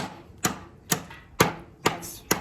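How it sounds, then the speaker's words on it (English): A Cold Steel GI tanto knife chops through material in five sharp, evenly spaced strikes, each a crisp close impact with a short decay and no talking. "It's chopping down pretty good."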